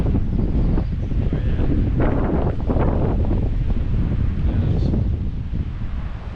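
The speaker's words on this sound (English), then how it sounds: "So it's getting windier now that we're more in the basin." Strong wind roars steadily across a high mountain basin on a hike toward Utah's Kings Peak, a loud, continuous rush buffeting the microphone with no voices.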